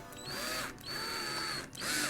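A power drill bores into a carbon fiber bass neck in three short bursts, its motor whining and rising in pitch with brief pauses between runs, close and fairly loud.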